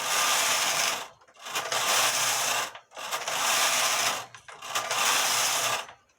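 A knitting machine working a jacquard pattern, automatically selecting its needles, makes four sweeping passes of loud mechanical rasping and clattering, each lasting over a second and separated by short pauses.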